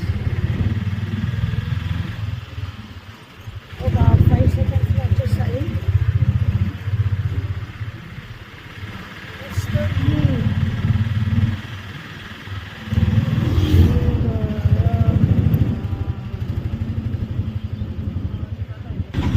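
An auto rickshaw engine chugs and rumbles close by, its pitch rising and falling, while people talk over it.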